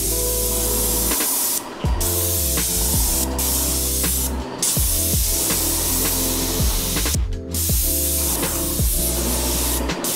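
A paint sprayer spraying enamel onto doors during a house renovation gives a loud, continuous hissing spray with a mechanical hum, broken by a few brief pauses in the trigger.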